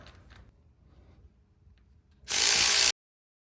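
Impact gun loosening cylinder head bolts on a B18B/B20 engine, one loud burst of hammering lasting about half a second after quiet shop noise, then an abrupt stop.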